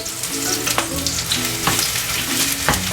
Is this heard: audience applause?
no